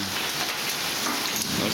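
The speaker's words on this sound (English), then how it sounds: "there's a lot of hard ice with the rain" Ice rain, hard hail mixed with rain, falling outside as a dense, steady patter of drops and pellets, loud and continuous for the whole short stretch, with no voices.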